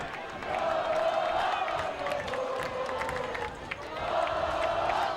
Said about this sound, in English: Hastings crowd's getting loud.